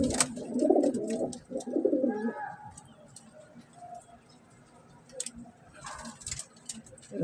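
Pigeons coo softly in a low, throaty rhythm, with a few scattered clicks and rustles, fading to quieter shuffling and a brief coo near the end.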